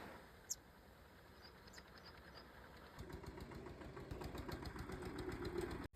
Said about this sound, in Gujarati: ભીમભાઈ લઈને આવી ગયા છે ટ્રેક્ટર